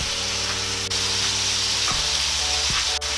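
Tomatoes sizzle and fry in a pot for salmon head sinigang, a steady loud hiss with a few stirring scrapes of a utensil against the pot.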